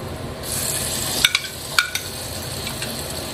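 Bottle gourd curry tempering sizzling steadily in hot oil, with a few sharp crackles and clinks of a stirring spoon against the pan, close and fairly loud, no voices.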